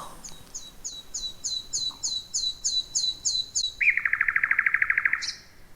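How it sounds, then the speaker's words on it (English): A nightingale sings in an oak woodland, a series of about a dozen clear repeated high notes followed by a rapid churring trill, bright and fairly close against a quiet background. "as the bird completes its calling song"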